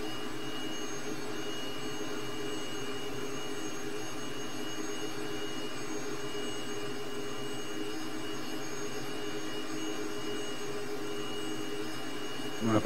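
A T-37 jet's engine roars at full power in a steady, unbroken cockpit drone, with a constant whine layered over a broad rumble that holds for the whole stretch.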